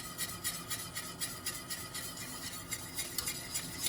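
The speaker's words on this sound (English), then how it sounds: "Keep whisking" Beer cheese sauce being whisked as cheese is added a little at a time, a quiet rhythmic scraping of the whisk against the pot.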